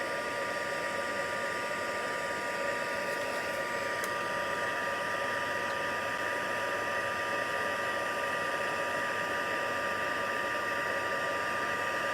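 Electric heat tool blowing steadily on setting two to heat-set watercolour paint, a constant close whirring hiss with no pauses, heard alone without speech.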